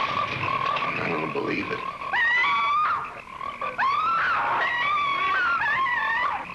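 Frogs croaking in a 1972 horror film trailer, a dense chorus of loud, warbling calls and rising wails filling the whole clip, with a brief spoken line mixed in.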